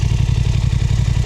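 A motorcycle engine runs with exhaust burbling, a loud, close, steady low-pitched pulsing throb with a rapid rhythmic beat and no talking.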